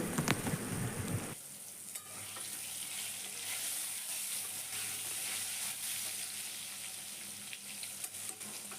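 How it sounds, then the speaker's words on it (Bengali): Diced potatoes with salt and turmeric sizzling in hot oil in a pan, a loud splash as they go in, then a steady crackling fry that continues throughout. "আলুটাকে খুব ভালো করে ভেজে নেবো"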